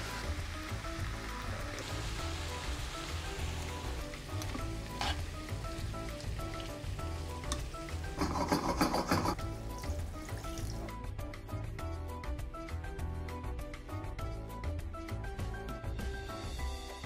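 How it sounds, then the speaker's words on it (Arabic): Chicken, vegetables and corn are stirred in a pan, with a soft continuous sizzle and quiet scraping under a faint background, plus a brief louder rustling burst near the middle. "بعد ما قلبتهم شوي بياخذوا الطعمة مع بعضهم، الخضرة مع الذرة مع الدجاج"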